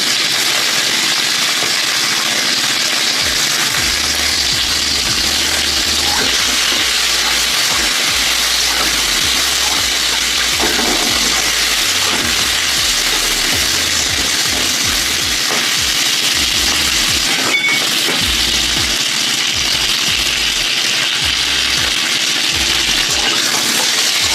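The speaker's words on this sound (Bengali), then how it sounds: "ওই তেলের মধ্যে আমি সিম আর কুমড়োটাকেও ভেজে নিচ্ছি" Flat beans and pumpkin pieces fry in leftover oil in a pan, giving a steady, loud, continuous hiss throughout with faint scattered crackles and no talking.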